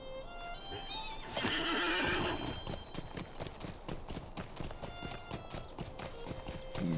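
Horse neighing and hooves clip-clopping in the fantasy online game The Lord of the Rings Online; a loud whinny near the start, then a steady, rhythmic clatter of hoofbeats over background game music.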